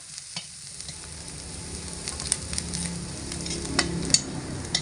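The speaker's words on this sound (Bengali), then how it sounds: "পেঁয়াজ, রসুন আর কাঁচা লঙ্কা খুব ভালোভাবে নাড়াচাড়া করে নিতে হবে।" Onion, garlic and green chilli stir-frying in a pan over medium heat for a green banana chop filling: a steady close sizzle with scattered scraping and clicking from the stirring, and no voices.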